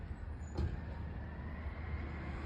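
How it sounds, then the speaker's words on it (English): Garbage truck arriving, a low diesel rumble at moderate distance with a brief hiss or clank near the start, then a steady idling drone. "the garbage truck is now here."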